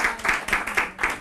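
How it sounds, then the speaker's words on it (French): Congregation in church clapping for an 87-year-old member, a quick rhythmic burst of hand claps in regular beats, fairly close. "on peut l'applaudir"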